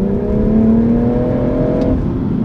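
A BMW M140i hot hatch engine revs up hard, its tone climbing steadily and loudly for about two seconds before easing off, heard close and alone without any talk.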